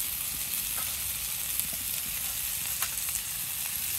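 Vegetables and fish fry in oil in a pan, a dense continuous sizzle with scattered small pops and occasional light stirring clicks, steady and near, with no one talking.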